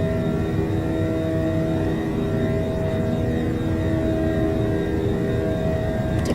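Airliner engines in a flight simulator, American Airlines 655 from New Orleans to Orlando, climbing on autopilot as speed is raised and flaps retract: a steady, loud, even jet drone with a faint whine, heard alone throughout.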